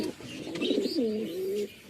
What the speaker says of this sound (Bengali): খুব সুন্দর পায়রা কালাঙ্কা পায়রা